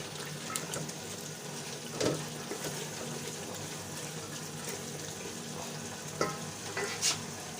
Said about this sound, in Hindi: दो से 3 मिनट तक इसको फ्राई करेंगे।